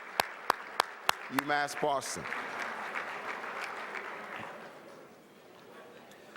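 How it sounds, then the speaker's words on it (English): Applause and crowd noise fill a hall at a university athletics hall of fame dinner, with a few sharp taps and a short spoken phrase at the start, then sustained clapping that fades toward the end. "a big round of applause, please, for the dinner that we're being served this evening and for the wait staff"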